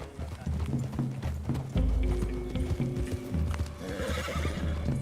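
Horse hooves clip-clopping at a steady gait in the video game Red Dead Redemption 2, close and clear, with a horse whinnying and background music underneath.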